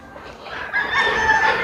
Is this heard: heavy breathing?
no